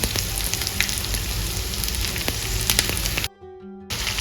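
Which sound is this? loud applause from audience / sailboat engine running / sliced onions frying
sliced onions frying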